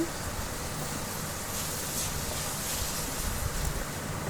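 Beaten egg poured into frying chichinga (snake gourd) in a pan, a steady, faint broadband sizzle and hiss holding evenly throughout with no talking.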